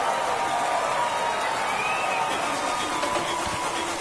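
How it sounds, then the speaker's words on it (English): Steady roar of a stadium crowd cheering after a home run in the MLB The Show 23 baseball video game, a dense continuous wash of voices at even loudness throughout. "That fires up the home crowd"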